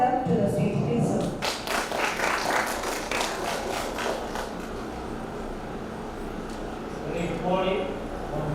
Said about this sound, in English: Please join me in giving a big round of applause as we welcome them to the stage